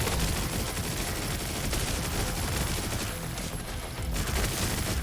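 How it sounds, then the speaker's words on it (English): A video game chain gun fires continuously and loudly for about five seconds, a dense unbroken roar of rapid shots with no pause. "I'm just gonna chain gun you."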